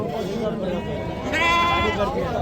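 A young sheep bleats at the Duggavathi sheep market, one loud close bleat cutting through continuous talking and crowd noise.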